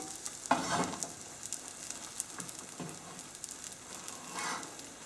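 Omelette mixture cooks in a pan over a gas flame, a faint soft sizzle with a few light scraping and clinking touches scattered through it.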